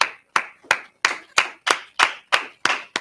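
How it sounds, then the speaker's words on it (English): Audience at a Monday night history class claps in a slow, even rhythm, about nine sharp, loud claps spaced roughly a third of a second apart with no voices. "All right, clap it up, clap it up."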